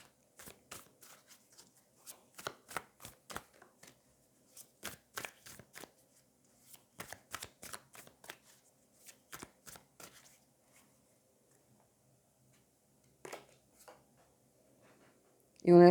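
Tarot cards being shuffled and drawn, a run of crisp riffling flicks and slaps close by in bursts, pausing briefly near the end before a final soft rustle.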